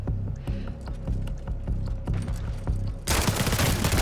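Dense bursts of rapid gunfire trade back and forth in a Call of Duty MW4 beta firefight. The shots crack sharply in quick clusters, then a louder, continuous barrage takes over near the end.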